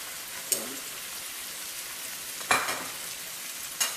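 Salmon fillet frying skin side down in hot oil for a rosemary and garlic salmon dish, a steady broadband sizzle with three sharp crackling spits spaced through it, close and alone without talk.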